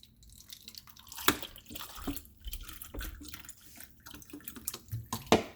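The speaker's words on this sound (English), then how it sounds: "I will take the lemon juice and pour that over the bone." Lemon juice poured over a bone splashes and drips in a series of small irregular splats, close by, with a few sharper drops standing out near the end.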